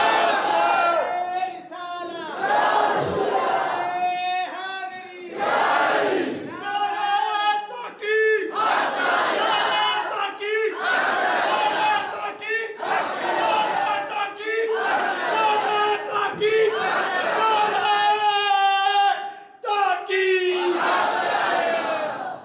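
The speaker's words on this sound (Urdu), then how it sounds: "نعرہ لاؤ یار دو چار پتہ چلے ذرا" Rhythmic call-and-response religious slogans shouted by a large crowd at an Eid Milad-un-Nabi gathering, a leader's voice answered by loud massed chanting in repeated bursts, echoing and filling the space for the whole stretch.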